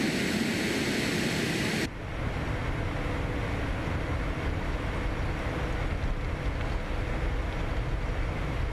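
Phenom 300 business jet in MSFS 2024, its simulated engines acting up while taxiing: a steady jet whine that abruptly changes character partway, dropping into a lower continuous rumbling hum, with no voices.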